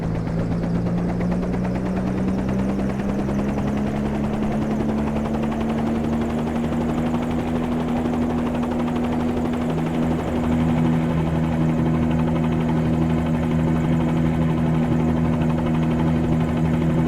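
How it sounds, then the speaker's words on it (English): A helicopter in Microsoft Flight Simulator 2020 flies steadily over the Seychelles islands with no wind, its rotor drone and engine whine loud and continuous for the whole stretch, holding an unbroken tone with no voices over it. "So let's get in the helicopter and fly down the chain and see what we can see."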